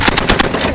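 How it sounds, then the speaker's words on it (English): A commander's vehicle-mounted machine gun fires a rapid burst of about eight loud, close shots in quick rhythm, alone. "the Pathfinders insisted I learned how to use the commander's machine gun."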